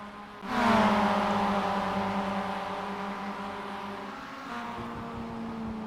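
A race car engine in the iRacing sim at Daytona starts with a sudden loud burst, then holds a steady high whine that slowly drops in pitch, with a brief shift and a renewed tone near the end. No one speaks.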